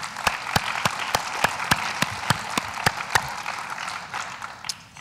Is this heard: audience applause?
yes